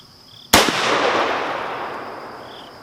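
A Smith & Wesson .44 Magnum revolver fires a single Hornady 240-grain XTP round into sand: one sharp, loud close-range blast, then a long reverberant decay that slowly fades over a couple of seconds.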